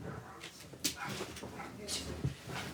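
A dog whimpers and gives a few short yips and barks during an outdoor confrontation, close and mixed with agitated human voices.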